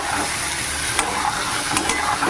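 Eggs stirred together with ridge gourd in a frying pan, a soft continuous sizzle with a few sharp spatula scrapes against the pan, close and without talk.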